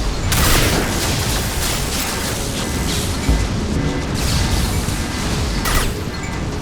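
Flashbang blasts and combat racket from Mass Effect 2 Legendary Edition, Lair of the Shadow Broker: a continuous dense wall of booming noise with a few sharper thumps over several seconds, loud and close.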